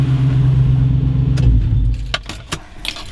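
A V8 drift truck with a custom 4-link suspension drives with a loud, steady low engine rumble. The rumble fades after about two seconds, leaving scattered sharp clicks and rattles.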